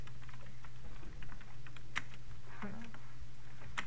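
Rapid keystrokes clatter on a computer keyboard at close range, a steady run of clicks over a low hum with a few louder taps near the end.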